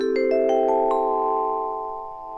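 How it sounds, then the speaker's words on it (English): Vibraphone struck without its motor running and with the sustain pedal held, a quick rising run of mellow metallic notes that blend into one long, steady ringing chord, close and alone. "when I play the vibraphone without the motor, with the sustaining pedal, it sounds like this."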